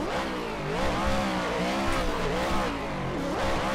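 A Vicari VDC RTR Spec 5-D car warming up its tires, its engine holding a loud, steady, close drone that wavers and rises in pitch with throttle changes, with a gritty undertone of tire scrub throughout.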